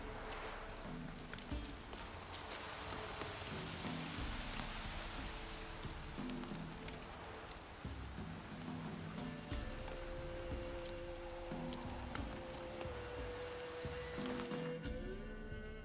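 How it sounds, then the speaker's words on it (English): Rain falling in the video game Witcher 3, a quiet steady hiss of rainfall that stays faint and even throughout, with a soft muffled thud now and then. "Maybe the rain will pass"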